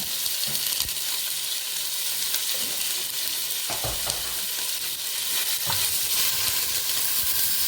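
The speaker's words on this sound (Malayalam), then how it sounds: "ജസ്റ്റ് എണ്ണ ചൂടാകുമ്പോൾ ഇഞ്ചിയും വെളുത്തുള്ളി ഇട്ട് കൊടുക്കാം." Crushed ginger and garlic frying in hot oil, a steady bright sizzle that continues throughout with occasional soft stirring knocks in the pan.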